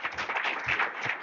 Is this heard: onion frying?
no